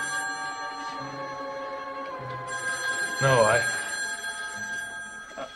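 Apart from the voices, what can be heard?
telephone bell ringing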